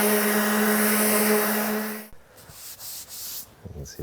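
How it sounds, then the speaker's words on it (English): A random orbital sander with 120 grit runs on wood for about two seconds with a steady, buzzing whir, then shuts off, leaving quiet shop sounds. "I'm gonna run 120 grit over this with a random orbital."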